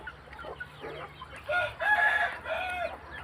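Chickens on a Thai backyard farm cluck in bursts while a rooster crows loudly partway through, the calls close and clear over light background noise, with no talking.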